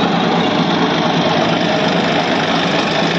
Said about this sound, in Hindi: अभी दिखाता हूँ आपको पूरा रोटा वेटर नीचे उतार के थोड़ी सी और RPM कैच